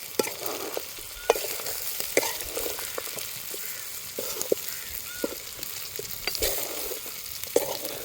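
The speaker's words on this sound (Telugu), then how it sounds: "పసుపు కారం చికెన్ పట్టేలాగా కలుపుతున్నా" Chicken pieces are stirred with chili powder and turmeric in a pan for a country-rooster curry, a close, steady frying hiss with frequent scraping strokes and knocks of the spoon.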